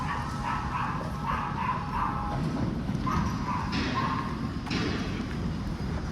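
Several dogs bark in short, repeated bursts at a distance, somewhere along a Kerala roadside at dusk, over a steady noisy outdoor background with traffic-like rumble.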